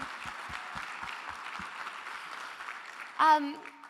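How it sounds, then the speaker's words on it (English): Audience applause for performers at a summit closing plenary, a steady wash of clapping across the room that fades toward the end as a single voice begins to speak. "one more round of applause for Dana and Benny again"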